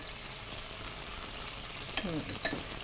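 Cumin and other spices fry steadily in a hot pan, filling the clip with loud, continuous sizzling crackle and a brief scrape of stirring near the end.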